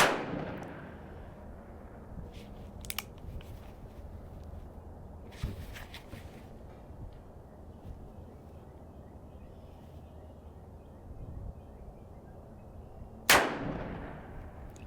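Shots from a Ruger Vaquero revolver aimed at a target outdoors: a sharp crack at the start and another near the end, each ringing out with a decaying echo, over quiet ambient noise and a faint thud in between.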